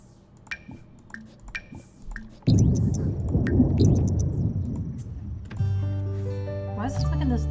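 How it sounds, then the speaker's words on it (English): Rumbling thunder effect from a life-simulation video game, a dense low roll lasting a few seconds, then fading into lighter game sounds and tones. "Why is this making those thundering noises?"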